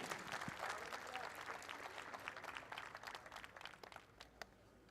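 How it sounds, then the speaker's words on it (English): Crowd applauding the top three finishers of the Mini 60 category at a race day awards ceremony, a fairly faint round of clapping that tapers off with scattered claps, with some voices mixed in. "please give a huge round of applause for your top 3 in Mini"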